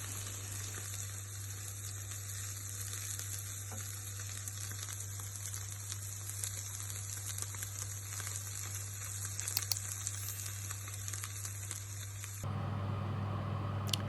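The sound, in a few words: onions frying in a pan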